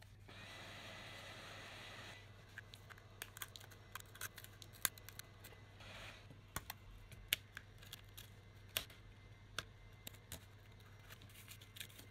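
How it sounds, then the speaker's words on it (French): Scraping glue residue off the frame of an ASUS Zenfone 3 Max during a screen replacement, with faint, sharp scratches and ticks scattered irregularly over a steady low hum and no speech. "On va retirer tout ce qui est résidu de colle"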